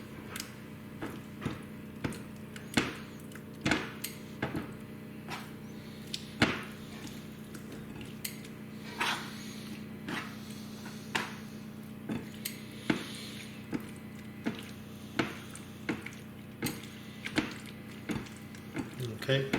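Egg being whisked in a bowl for coating beef for crispy chili beef, a steady run of sharp utensil clicks against the bowl over a low kitchen hum, close and fairly loud.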